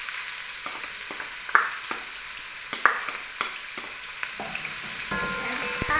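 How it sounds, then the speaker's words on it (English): Onions frying in hot oil give a steady, even sizzle, with a few sharp clicks and scrapes of stirring scattered throughout. "And fry your onion."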